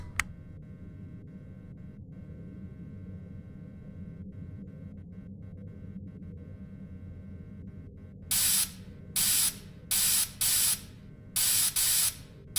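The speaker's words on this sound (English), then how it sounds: "So go ahead and start spraying the suit, making sure that no electronics were left inside of the suit after removal." Cleaning solution sprayed onto an animatronic suit in a horror video game, five sharp hissing spray bursts in an uneven rhythm following a low mechanical hum, loud and close.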